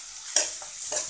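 Spices sauté in hot oil with a steady sizzle, broken by a couple of brief stirring scrapes and hisses, with no voices.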